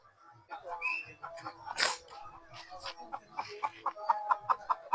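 Three hens cluck in short, repeated bursts that quicken toward the end, mixed with a few other calls and some voices nearby.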